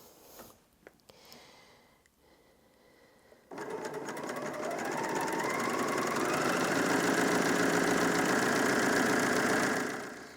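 A Bernina L460 overlocker stitches through fabric, a loud, fast, even mechanical whir that starts abruptly after a few seconds of quiet handling and runs steadily before stopping near the end.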